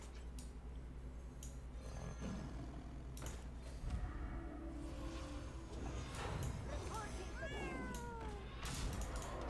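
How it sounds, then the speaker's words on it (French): An army of little cats summoned in the card game Hearthstone gives several short, high meows near the end, amid mechanical card-game effects and busy background game sounds. "Et nous invoquons une armée de petits chats."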